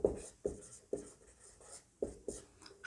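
A pen scratches across paper as a maths solution about the area of a triangle is written out by hand, with quiet, close strokes coming in short irregular bursts.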